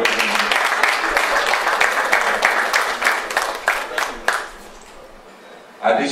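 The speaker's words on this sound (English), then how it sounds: "A round of applause for that Okenwa." Guests at a dinner party giving a round of applause, lively clapping from a crowd that gradually thins and fades, then a brief voice at the end.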